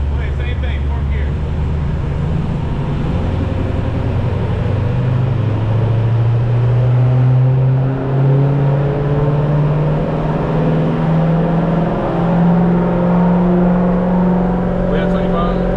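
A cammed Chrysler 300C accelerates in fourth gear on a dyno, its engine droning loud and steady as the pitch climbs slowly over a long sustained pull, with a voice briefly audible beneath.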